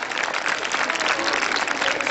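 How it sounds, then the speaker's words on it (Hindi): Loud, dense applause from a school audience at a girls' school science block inauguration in Chamba, honoring a student; steady clapping fills the short stretch with no talk. "इसके लिए जोरदार तालियां"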